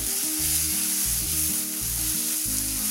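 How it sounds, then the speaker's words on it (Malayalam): Coriander, black pepper and garam masala powders sauté in a pan for an egg curry with coconut milk, making a constant close sizzle over low, stepped background music. "1 ടീസ്പൂൺ മല്ലിപ്പൊടി, 1/4 ടീസ്പൂൺ കുരുമുളക് പൊടി, 1/2 ടീസ്പൂൺ ഗരം മസാല പൗഡർ. ഇതൊന്ന് വഴറ്റാം."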